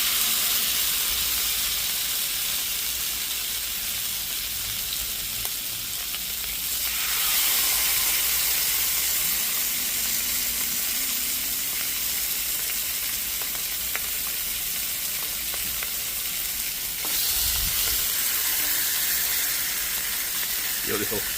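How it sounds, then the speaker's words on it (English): Pompano fish with lemon slices and fresh lemongrass sizzles on a Blackstone griddle in a steady, loud hiss that swells twice as food hits the hot surface, with occasional soft clicks and light speech underneath. "I'm throwing in a slice of lemon and some fresh lemongrass, which I'm growing in my window boxes here. And then we'll throw that on the griddle"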